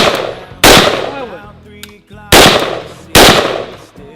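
Three loud, sharp gunshots from a scoped gun at an outdoor shooting range, each a sudden blast with a trailing decay, spaced roughly a second or more apart, with faint voices in the gaps.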